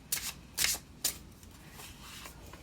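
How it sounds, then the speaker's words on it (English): Thin tarot cards are shuffled by hand in three quick riffling bursts, close and crisp, followed by quieter handling in a calm room. "If you don't like listening to me shuffle, just fast forward."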